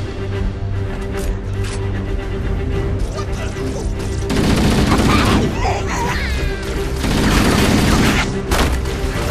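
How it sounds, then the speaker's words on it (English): Sniper rifle shots and heavy gunfire ring out in Halo, loud sharp reports and booming bursts layered over a steady game soundscape, with a chaotic rapid volley in the middle and later. "I love the sniper rifle in this game."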